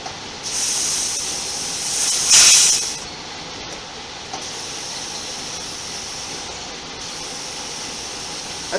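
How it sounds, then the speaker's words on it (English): Compressed air hissing into a tyre on a wheel after the valve core is refitted, a loud bright rush for about three seconds that swells briefly, then a faint steady hiss continues. "And now we can air up the tire."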